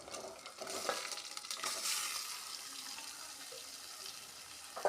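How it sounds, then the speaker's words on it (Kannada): Soaked chicken pieces dropped into hot oil and stirred for a masala gravy, giving a steady sizzle with scraping spoon strokes against the pan, close and alone without talk. "ನಂತರ ನಾನು ನೆನೆಸಿಟ್ಟಂಥ ಚಿಕನನ್ನು ಅದಕ್ಕೆ ಹಾಕುತ್ತಾ ಇದ್ದೇನೆ"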